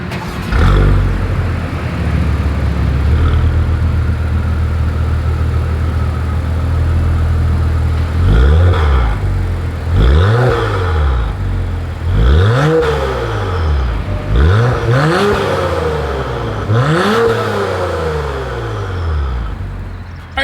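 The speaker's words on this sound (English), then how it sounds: "here is that exhaust clip" A 2022 Acura TLX Type S sedan idles with a deep rumble, then the exhaust is blipped repeatedly, each rev rising sharply and falling back, loud and close.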